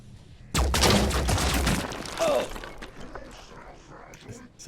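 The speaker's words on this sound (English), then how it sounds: "So they're obviously shooting at the civilians." Rapid gunfire aimed at civilians in Phoenix Point rattles in a loud close burst lasting over a second, then trails off into scattered impacts and quieter game sounds, with a voice speaking over it.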